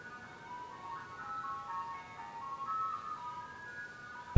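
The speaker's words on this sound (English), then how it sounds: "the ice cream truck's coming through" An ice cream truck passes by playing its tinkling jingle, a steady melody at moderate distance over faint road noise, cut off by a sudden loud thump at the very end.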